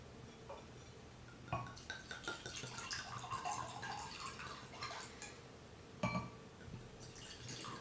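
Rioja red wine trickles and splashes into glasses as it is poured, faint and close, with a few glassy clinks scattered through the pour.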